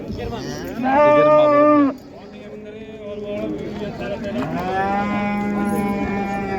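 An ox lows loudly at the Karvon livestock bazaar in Qarshi, one long moo followed later by a second, softer drawn-out call, with people talking and market bustle throughout.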